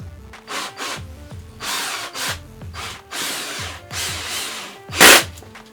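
Power drill driving screws into a DIY electric skateboard's battery enclosure, short whirring bursts repeating in an uneven rhythm with ratcheting clicks, ending in a louder sharp burst near the end; no talking.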